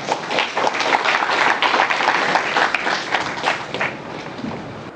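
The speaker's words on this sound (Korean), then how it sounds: "박수 부탁드리겠습니다." Audience applause in a seminar hall as a speaker presenting on reducing idea-startup failures is welcomed to the stage, with dense, steady clapping throughout at fairly even loudness.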